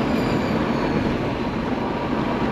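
A loud, continuous rumble and roar of an Indian Railways train passing close by, steady throughout with no voices.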